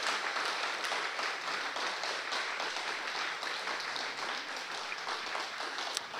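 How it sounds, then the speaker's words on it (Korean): A church congregation applauds loudly for a member's hard work at a Sunday service, a dense, steady wash of clapping from many hands lasting throughout with no pause. "그 우렁찬 박수로 도준이의 그 수고에 박수를 보내주면 좋겠어요"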